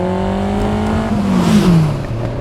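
A Lotus Esprit V8 engine pulls hard out of a corner, its loud, close exhaust note climbing steadily in pitch as the car accelerates, with a faint tire hiss underneath and no talking.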